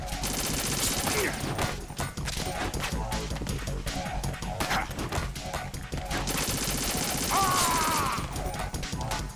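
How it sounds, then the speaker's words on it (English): Automatic rifle fire in the video game Metal Gear Solid 2 rattles in loud, dense bursts throughout, mixed with busy game effects and no clear gaps. "I do not like using an automatic rifle, Jesus Christ."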